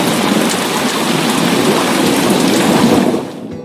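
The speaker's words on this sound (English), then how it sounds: "It is a magical story by Shakespeare called The Tempest, which means a storm." A loud, dense downpour roars with deep thunder rumbling through it, a continuous storm wash that drops away abruptly at the end, with no talking.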